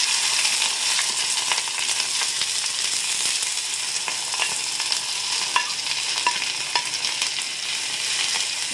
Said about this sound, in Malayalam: ഒരു ചീഞ്ചട്ടിയിൽ കുറച്ച് വെളിച്ചെണ്ണ വെച്ച് കൊടുത്തിട്ടുണ്ട്. ഞാനിതിലേക്ക് ഈ വെണ്ടയ്ക്കയും